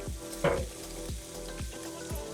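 Wine poured into a covered skillet of fish with morel mushrooms, setting off a loud burst of sizzling and frying, followed by steady crackle with soft repeated low thumps.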